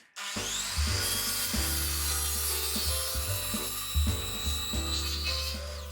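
Timber for a porch being sawn by hand, loud close rasping strokes in an uneven rhythm, each stroke a gritty rub of the blade through wood, with no talking.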